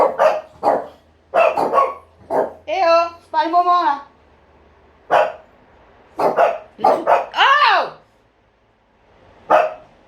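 Several dogs bark close by in repeated bursts, some barks drawn out into howls and yelps, with pauses between volleys while someone briefly speaks among them.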